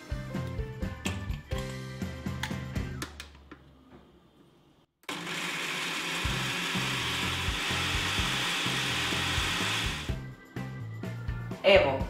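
Torn Oreo cookies crushed in a kitchen blender for a no-bake Oreo cheesecake, a loud steady motor whir and grind running for about five seconds between quieter stretches of handling noise.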